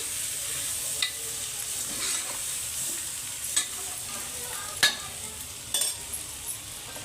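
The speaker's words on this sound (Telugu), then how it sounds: "ఇప్పుడు కలుపుకుందాం" Mutton curry with brinjal and tomato pieces stirred in a pan over a soft background sizzle, with sharp clicks and scrapes of a spoon against the pan every second or two.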